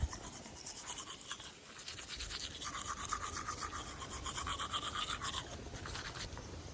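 Toothbrush scrubbing teeth with a steady back-and-forth rasp, close and fairly quiet, continuing without pause; no talking.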